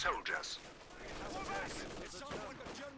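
Machine gun fire from a Company of Heroes 2 real-time strategy battle, with bursts of gunfire and other battle sounds running under a commentator's steady voice.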